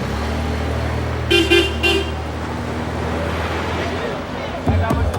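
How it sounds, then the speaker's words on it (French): Busy Port-au-Prince street traffic with rumbling engines and a few short car horn toots, two blasts early and another near the end, amid a background murmur of voices. "On se jette dans le trafic de Port-au-Prince"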